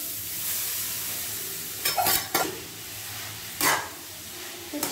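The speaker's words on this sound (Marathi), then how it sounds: "छान तुपामध्ये परतवून घ्यायचा आहे" Grated carrot sautés in ghee for carrot halwa with a soft, continuous sizzle, broken by a few louder scraping bursts as it is stirred in the pan; no speech.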